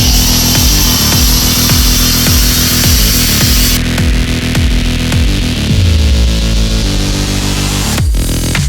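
Power tools cutting a panel on a BMW E30 being fitted with a 2JZ engine, a loud close grinding saw with rhythmic pulsing strokes, the pitch shifting midway and a sharp clatter near the end.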